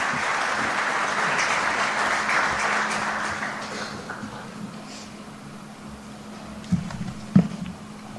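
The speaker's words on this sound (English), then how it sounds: "may I request everyone to please welcome him with a round of applause" An audience at a banking conference applauds to welcome the speaker, sustained, moderately loud clapping that fades after about four seconds into a quiet room with a low hum and a couple of sharp knocks near the end.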